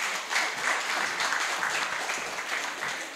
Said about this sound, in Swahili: Makofi mengi zaidi jamani